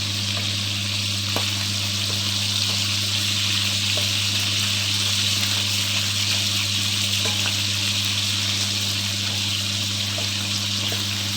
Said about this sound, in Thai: ทอดกรอบไว้เลย